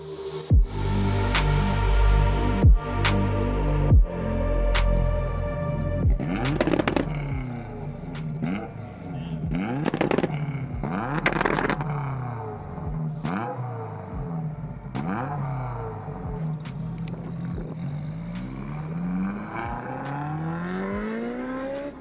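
Supercharged 380bhp Honda S2000 engine revving hard on the road, rising and falling through repeated climbs in pitch with gear-change dips, loud and close throughout with no talking.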